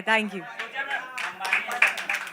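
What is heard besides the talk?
audience clapping for Vishal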